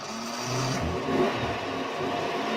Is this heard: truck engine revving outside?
yes